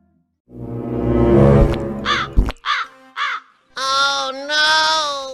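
Crow cawing loudly and close by in a cartoon comedy scene, several harsh caws in a row after a burst of voiced noise, with a longer pair of drawn-out caws at the end.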